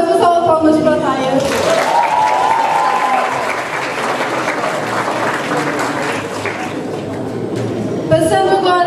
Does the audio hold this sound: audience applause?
yes